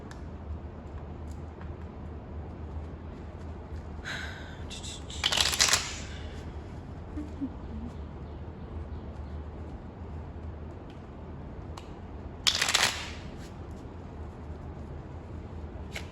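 Tarot cards being shuffled, a faint soft riffling and sliding under a low hum, with two short louder bursts of card riffles several seconds apart.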